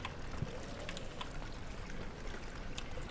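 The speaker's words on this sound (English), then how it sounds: "Because there's literally water falling on the floor." Water runs and splashes onto a floor in the horror game Amnesia as a faint, steady, fountain-like rush that keeps going without a break.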